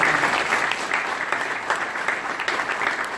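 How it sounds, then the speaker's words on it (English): An audience at an NHL All-Star Game announcement press conference applauds, a dense, sustained wash of clapping from a sizable crowd in an indoor room, fairly loud and steady from start to finish. "Let's give Santiago a round of applause."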